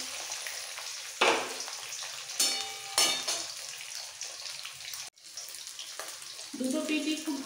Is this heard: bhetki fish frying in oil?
yes